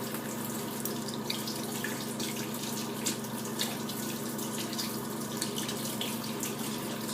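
Tap water runs steadily over a makeup brush being rinsed clean at a sink, a continuous hissing splash with small shifting spatters and no voices.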